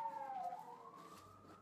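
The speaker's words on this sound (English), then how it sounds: "Got some sirens going on out there." A siren wails in the distance, its pitch sliding down and then holding steady, with no one speaking over it.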